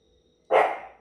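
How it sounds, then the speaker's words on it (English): A single loud, close dog bark breaks out abruptly halfway through after near silence, then tails off, heard indoors. "Sorry for the dog."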